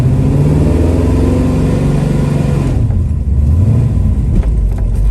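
A 1970 Chevrolet Camaro with a shift kit runs loud and close, its engine rumbling steadily and then revving as it accelerates, with no talk over it.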